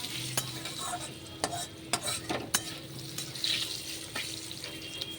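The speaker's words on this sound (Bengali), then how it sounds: "একটু ভেজে নিই, তারপর সবজিগুলো দেবো।" Mango pieces frying in a pan with salt while being stirred, a soft steady sizzle broken by sharp scrapes and clicks of the spoon against the pan, heard close and alone.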